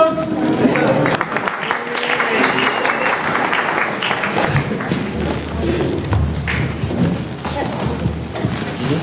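A cabaret crowd claps and cheers after a performance, a dense, fairly close wash of hands with occasional thumps, while voices talk over and through it.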